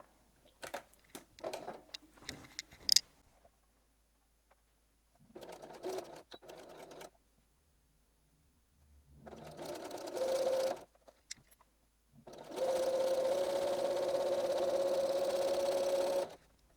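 Sewing machine stitching a homespun fabric rag quilt block, short bursts of needle hum separated by pauses, ending in a longer steady run of close, even stitching, with no talk.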